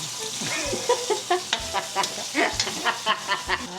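Garlic and onion sauté in a pan with a soft continuous sizzle, broken by frequent scraping stirs and light clatters of a utensil, close and fairly quiet throughout.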